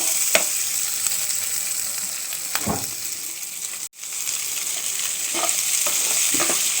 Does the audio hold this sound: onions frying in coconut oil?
yes